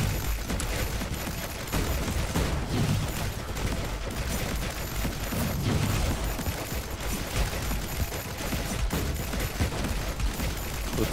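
Rapid bursts of gravity cannon fire from the Time Tracker video game, a dense, continuous barrage of heavy booming shots that carries on for about eleven seconds with no break.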